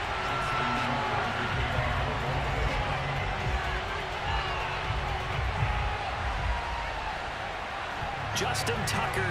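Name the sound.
stadium crowd cheering in Madden NFL 22 video game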